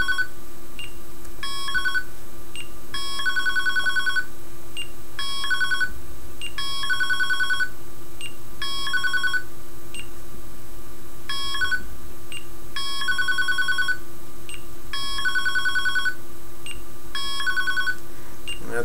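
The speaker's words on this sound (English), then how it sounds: "There's a 3-second delay that's built into the playback function, waiting for the dial tone, then just dial the number." An MTS mobile telephone playing back a Secode/GE dialing sequence, a repeating run of rapid tone bursts and beeps in regular groups over a steady hum, loud and without talk.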